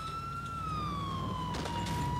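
A wailing ambulance siren in the video game GTA IV slowly sweeps in pitch over a low engine rumble, steady and fairly close, with a brief rattle near the end.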